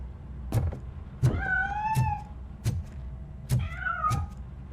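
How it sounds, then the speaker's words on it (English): A cat meows repeatedly in the video game RoboCop: Rogue City, several short rising cries spaced about a second apart, each with a soft thump beneath, fairly close and with no speech. "That cat must be hiding inside."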